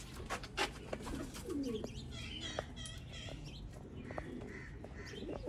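Sialkoti pigeons coo close by in a loft, with soft repeated throaty coos and occasional chirps from other birds, and a faint voice murmuring in the background.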